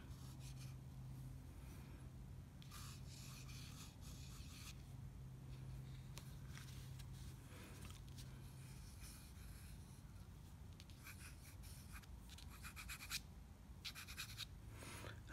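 Bespoke piston-filler fountain pen nib scratching across paper in faint, close strokes, with soft intermittent scraping and rubbing over a quiet background hum.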